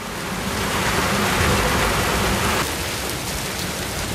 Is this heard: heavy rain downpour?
yes